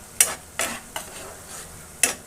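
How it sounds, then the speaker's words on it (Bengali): Spice paste for a catfish (boal) curry is stirred in a hot pan; four distinct scraping stir strokes cut through a soft, steady sizzle, close and moderately loud with no talking. "ভালো করে মশলাটাকে কষিয়ে নেব।"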